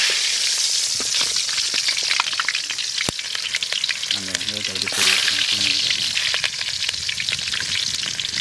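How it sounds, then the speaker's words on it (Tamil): Shallots sizzle and crackle in hot oil, a loud continuous frying hiss with occasional stirring clinks and pops. "எண்ணெய் ஊற்றிக்கலாம் சின்ன வெங்காயம் போடுவோம்"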